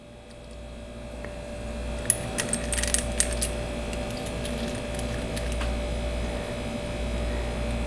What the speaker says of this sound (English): I'll start by putting the washers back on